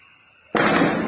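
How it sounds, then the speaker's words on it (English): Gunfire during an attack on Kuje prison in Abuja: a sudden loud burst that sustains as a dense rattle of shots through the short stretch, after a quiet lead-in. "You can hear the sound of bullets."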